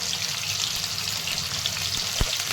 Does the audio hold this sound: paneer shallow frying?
yes